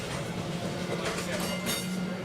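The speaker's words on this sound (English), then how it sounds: "how different the sound of an old toast rack tram is" An old Melbourne toast rack tram with resistor control runs steadily, giving a continuous close rumble with a low hum and a clattering, clickety-clack rail rhythm throughout.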